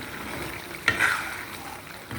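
Boiled eggs fry with turmeric in oil, a soft continuous sizzle with a brief stirring scrape partway through, fairly quiet and without speech.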